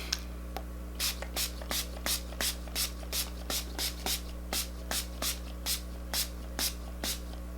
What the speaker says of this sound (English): take your equalizer, give it a good shake, and mist it